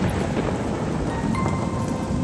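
A night thunderstorm with heavy rain makes a dense, continuous wash of noise with a low rumbling undertone, unbroken throughout.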